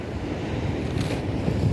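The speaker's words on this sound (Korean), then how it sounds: "파도 높이 봐" High, rough ocean waves on Haeundae beach in Busan at night, heard as a steady, loud roar of surf mixed with gusty wind buffeting the microphone, swelling slightly toward the end, with no talking.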